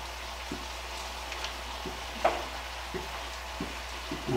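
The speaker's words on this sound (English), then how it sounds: "I'm going to go ahead and add in some vegetables. Let them go ahead and be sauteing a little bit." Vegetables sautéing in a soup pot for stuffed pepper soup make a soft, quiet sizzle, broken by a few faint knocks and stirs from a utensil.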